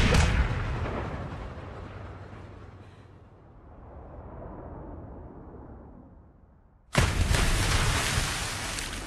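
Heavy gunfire and explosive booms from a James Bond video game, a loud rumbling blast that fades over several seconds before another sharp, loud burst cuts in near the end.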